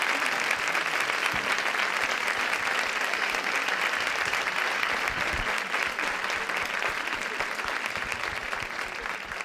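An audience at an educational event applauds, with dense, sustained clapping that holds steady at full strength for several seconds and fades only slightly at the end.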